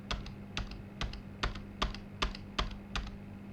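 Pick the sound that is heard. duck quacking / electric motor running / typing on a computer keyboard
typing on a computer keyboard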